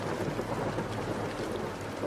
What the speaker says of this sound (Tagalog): Nilusong namin ang malakas na ulan.